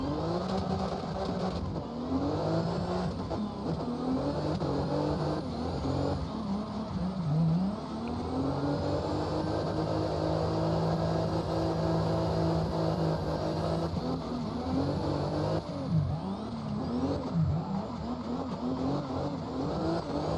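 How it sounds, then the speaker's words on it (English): BMW E92 engine in the CarX Drift video game, droning and revving continuously with rising and falling pitch as the car drifts, loud and alone for about twenty seconds. "I think the car could use revving a little bit higher though."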